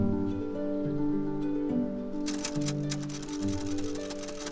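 Rapid typewriter keystrokes, one key struck over and over, clatter in a dense irregular run through the second half, laid over steady tonal background music that fills the whole stretch.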